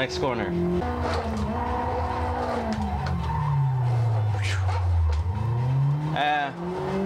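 Engine and tire squeal from a car drifting in the Need for Speed video game, a loud whining motor rising and falling in pitch with screeching skids, under someone talking.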